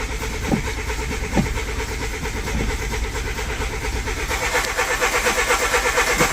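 A VW Polo engine cranking repeatedly without catching, a rapid rhythmic churning whir with a few sharp clicks, rising in intensity toward the end, heard close and fairly loud.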